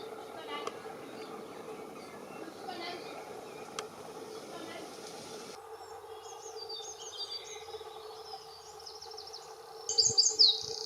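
Small birds chirp around a garden bird bath, quick high tweets in short bursts growing brighter and nearer toward the end, over a steady background hum.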